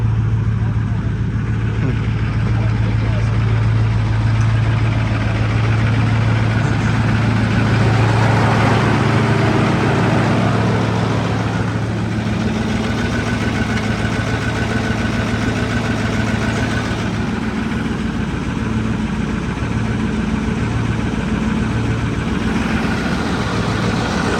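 Ford F350 6.4 diesel manual truck idling with a steady, loud low rumble and rhythmic knock, running close by while voices talk over it.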